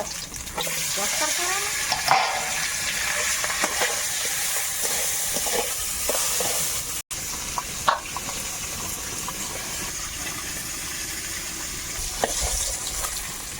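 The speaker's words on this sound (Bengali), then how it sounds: "মাছটা ভাজা হয়ে গেছে এখন উঠিয়ে নেব" Fish coated in turmeric and salt fries in hot oil in a very hot wok, a steady close hiss of sizzling with occasional stirring clicks and brief louder pops.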